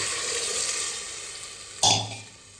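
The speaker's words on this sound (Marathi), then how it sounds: "फोडणीला पाणी घालूया." Water poured into a hot tempering with turmeric for plain khichdi sets off a sudden loud sizzling burst partway through, easing off over a second after a steady background hiss.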